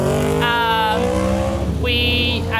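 Motorbikes on a winding road through Beechmont, Queensland, pass as a rising and falling engine whine with sharp revving pitch shifts, loud and continuous across the moment.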